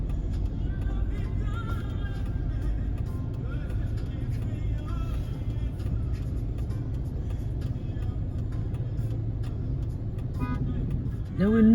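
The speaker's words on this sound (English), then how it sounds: "Look at the traffic." Continuous road traffic with cars and lorries rolls by at a slow crawl, a steady low rumble of engines and tyres with faint horn-like tones. A loud swell comes at the end.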